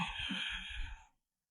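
One slow, breathy exhale through the nose during a gentle office stretching routine. It is soft and close, lasts about a second, then stops into silence.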